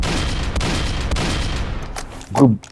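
Gunfire in the Roblox-style game Dead Rails, a rapid burst of rumbling shots with a booming low impact near the end, loud and close, a voice briefly heard.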